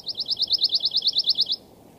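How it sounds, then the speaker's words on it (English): A returning migrant songbird delivers a fast, even trill of about fifteen bright repeated notes, close and clear, ending abruptly in quiet. "all the migrants are returned and they're all singing"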